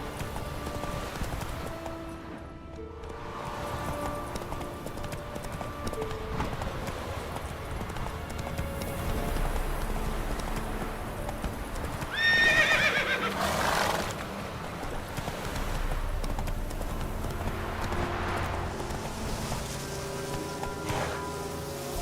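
Roach, a horse in the video game Witcher 3, gallops with steady clip-clop hoofbeats and neighs loudly near the middle, all under a continuous wash of ambient game noise.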